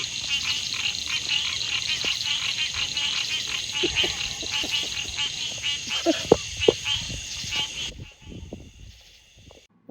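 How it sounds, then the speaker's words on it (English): A loud chorus of frogs croaks at night near a tent campsite on private land, dense rapid repeated calls layered with insect trilling, fading out toward the end with a few brief voices. "Frogs are singing pretty loud."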